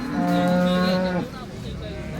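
A cow lowing at a cattle market in Baramati, one long loud close moo with a clear tonal rise, fading into murmuring background noise.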